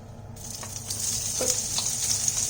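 Onion frying in hot oil in a pan, a steady loud sizzle throughout with small pops and spatters, close up and without talk.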